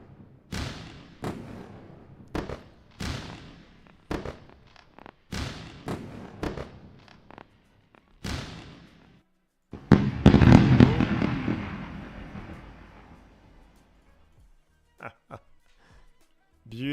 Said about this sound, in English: And this is definitely deserving fireworks.